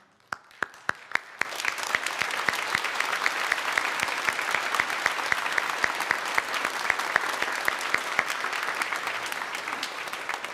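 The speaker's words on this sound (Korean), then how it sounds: "우리 박수로 환영하도록 하겠습니다" Audience applause welcomes guests at a Sunday worship service: a few scattered claps quickly swell into full, steady clapping from a large crowd that carries on strongly to the end.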